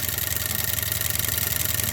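Antique water pumping engine, measured by bore size, running at a steady idle with a fast, even mechanical chuff and rumble, close and continuous.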